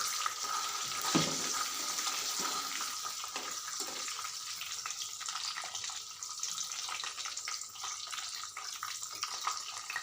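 Herbal hair oil with amla, shikakai and hibiscus flowers cooking on a slow flame, a constant soft sizzle and bubbling hiss close by with a few faint clinks, no talk.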